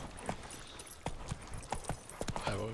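Horse hooves clip-clop at a steady trotting rhythm as the horse is ridden in The Witcher 3, quiet and even over a soft game background with no voices.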